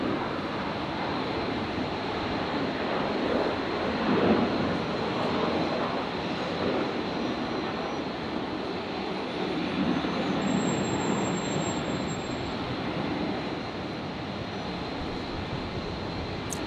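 A Virgin airliner taking off at Brisbane airport, a broad steady jet roar heard from a distance that swells slightly and then holds, with no talk over it.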